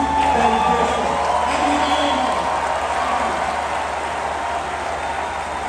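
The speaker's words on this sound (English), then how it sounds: "Don't stop clapping, keep clapping, keep clapping." Summit audience clapping and cheering at a live event, loud and sustained, with scattered whoops and crowd shouts mixed into the steady applause, which eases slightly toward the end.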